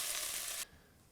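Beef pieces for stew sear in a pot with a loud, close sizzle that cuts off abruptly partway through.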